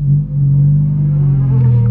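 A manual transmission car moving in reverse as gas is added, a loud, close, steady low engine hum with a slight rise in pitch toward the end.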